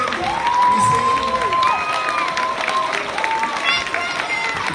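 A crowd at a school Black History program applauds teachers as they stand, steady clapping mixed with cheers, whoops and children's shouts, with voices calling out over it throughout.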